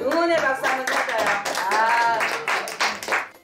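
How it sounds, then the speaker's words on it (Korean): A studio audience on a Korean television family program claps in encouragement, rhythmic hand claps mixed under lively overlapping voices, fairly close and loud. "우리 응원의 박수 한번 쳐줘요"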